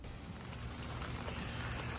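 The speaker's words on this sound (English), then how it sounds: "it is still raining outside." Steady rain pattering outdoors onto a tent overhead, a dense continuous hiss with soft drop patter, moderately quiet and unbroken, with no voices.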